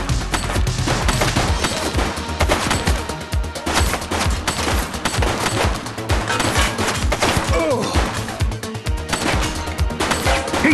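Rapid bursts of gunfire from a police shooter video game, The Precincts, crackle loudly and almost continuously, with dense overlapping shots and occasional crashes, while a voice briefly calls out.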